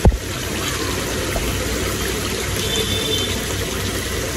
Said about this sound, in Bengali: এখন কিন্তু আমি ঝোল দিয়ে দিব।